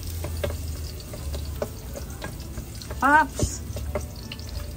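Ginger fries in a pan of hot oil for chicken tinola, giving off a steady crackling sizzle close by, while a voice briefly calls out over it.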